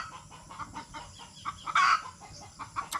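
Chickens cluck softly at a distance in an outdoor yard, a few short clucks over a low background hum, with one brief louder squawk near the middle.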